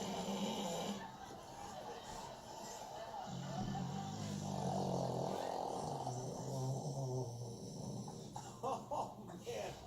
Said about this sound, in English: Those dogs should form a snoring rock band.